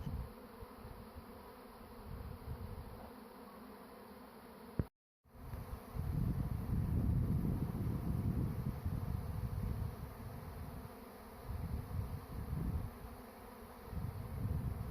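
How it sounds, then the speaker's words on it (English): A large swarm of honeybees fills a backyard with a steady, dense buzzing hum, with a brief cut of silence partway through before the droning resumes, louder and closer. "the bees flying everywhere"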